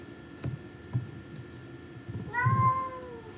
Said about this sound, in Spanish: ¡Qué hinchabolas que es este gato!